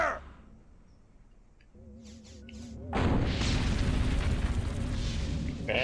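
Loud booming blasts and gunfire fill the Destroy All Humans game scene, starting quieter with a tonal hum before erupting into a dense, sustained barrage of explosions from around the three-second mark onward.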